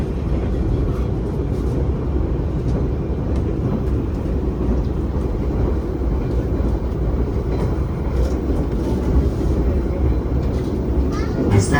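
An economy-class passenger train rolls along the rails between Yogyakarta and Semarang in Indonesia, heard from inside the carriage as a steady, loud, continuous rumble and rattle of wheels on the track with faint voices under it.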